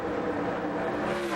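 NASCAR Winston Cup race cars roar around Darlington Raceway, a loud sustained engine drone with a steady high whine that rises slightly toward the end.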